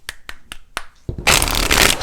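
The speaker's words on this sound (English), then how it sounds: "Let's go ahead and do some shuffles and pull the energy for you" Four sharp card snaps spaced evenly, then a dense, loud riffling rush as a deck of tarot cards is shuffled, close up and with no talking.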